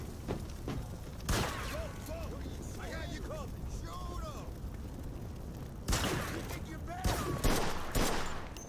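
Mafia 2 gunfire crackles in sharp bursts amid a busy shootout, some shots loud and close and others lighter and distant, with voices shouting in between.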